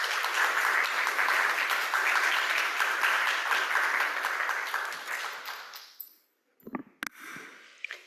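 Audience applause welcoming a speaker to the stage, a dense, steady clapping from a crowd that fades out after about six seconds, followed by a few faint scattered sounds.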